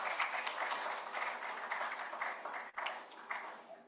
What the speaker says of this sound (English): Please, another round of applause for our prince.